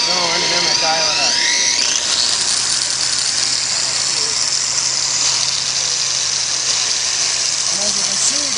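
A polisher with a pad works granite stone wet, a steady loud whine with a high squeal that shifts pitch as the speed is dialed up, running continuously throughout with a voice talking over it early on.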